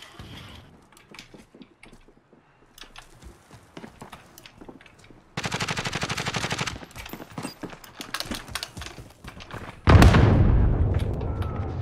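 Automatic gunfire from Call of Duty: Modern Warfare multiplayer, sharp bursts and single shots popping sporadically at first, then a dense, loud stretch of rapid fire, ending in a heavy close blast that rumbles on.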